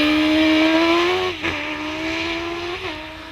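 An 1100-class race car at a British hillclimb event holds a loud, buzzing engine note under steady acceleration, with two brief gear-change dips as it pulls away and gradually fades slightly in the distance.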